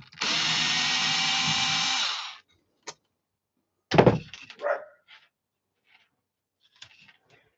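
A power drill whirs steadily for about two seconds while backing screws out of the bumper of a Kaiju RC car, followed by a few clicks and handling clatters from the workpiece.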